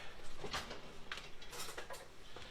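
A spoon being picked out of a kitchen cutlery drawer, with a few light metallic clinks and rattles spread over a couple of seconds, moderately quiet.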